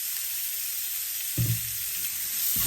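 Ingredients for fried rice sizzling in a hot pan after hot chili sauce is added, a steady hiss with a sharper burst of crackle midway and another near the end, no voices.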